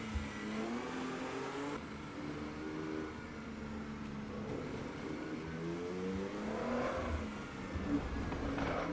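Race car engine from the Assetto Corsa sim at Brands Hatch Indy, droning steadily through a lap with rising and falling revs, loud and continuous with no talk over it.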